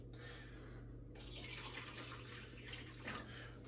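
Water pours steadily into a pet snake's water bowl, a continuous splashing fill that starts abruptly and runs on over a low background hum.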